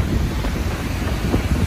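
Rough surf and strong wind buffet a beach at Navegantes, with broadband wind rumble on the microphone and waves crashing continuously, loud and close, with no talking.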